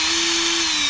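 A Zper cordless impact drill runs with a steady, even high-pitched whine, loud and close, holding one constant motor tone without interruption.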